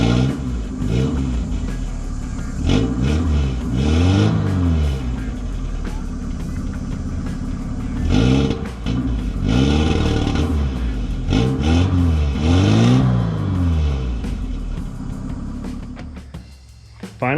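A worn engine with cooked main bearings runs roughly, rising and falling in repeated revving swells with a knocking, clattering undertone, loud and close, steady for most of the stretch before dropping off near the end.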